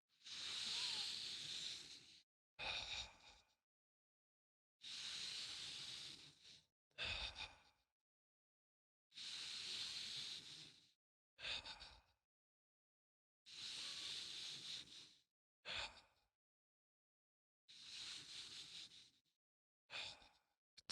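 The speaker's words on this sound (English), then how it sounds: "in through the nose, out through the mouth, nice and deep" Deep, slow breaths in a steady cycle, each a long airy inhale through the nose followed by a shorter, sharper exhale through the mouth. The pattern repeats about five times, quiet and close, with pauses between and no talking.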